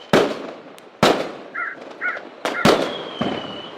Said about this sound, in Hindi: हर जगह पटाखे फूट रहे थे।